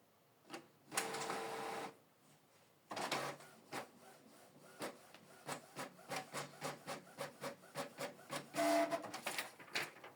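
A Canon Pixma TS6550i inkjet printer running a test page: bursts of mechanical whirring and feeding, then a steady series of rhythmic clicks and thumps from the moving print head, close and clear with no talking.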